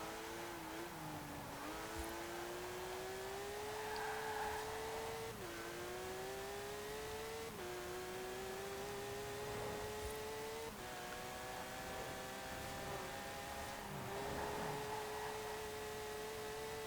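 A 1959 Porsche 356 A 1600 Super accelerates in Forza Horizon 4, its engine note rising repeatedly through the gears with short dips at each shift, steady and moderately quiet.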